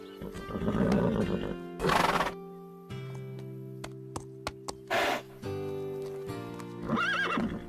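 Pepper, an injured horse in a cartoon, whinnies several times in loud, close, shrill bursts, separated by quieter sustained tones.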